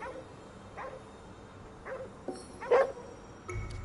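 A dog in a Tokyo street scene of a video game gives a few scattered soft barks and yips, fairly faint and spaced apart over a quiet background.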